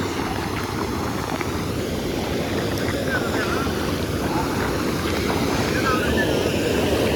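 Water rushes loudly and steadily through the sluice of a full village tank, a constant roaring churn with faint wind buffeting the microphone.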